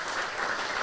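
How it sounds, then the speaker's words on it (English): Brief burst of audience applause for two rowing coaches at a live event at Montgomery Bell Academy in Nashville, a steady wash of clapping throughout with no talk over it. "Everybody, round of applause, please,"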